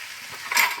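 Pointed gourd frying in a pan with turmeric and salt, giving a steady close hiss that swells briefly toward the end, with no voices.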